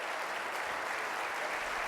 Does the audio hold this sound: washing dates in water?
no